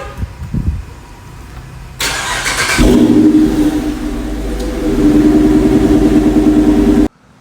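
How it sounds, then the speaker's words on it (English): A 2013 Dodge Charger R/T MAX AWD with a Corsa quad-tip exhaust cranks and fires up loudly, then holds a deep, rumbling idle with a slight rev before abruptly cutting off. "finally we got the Corsa exhaust in the back here."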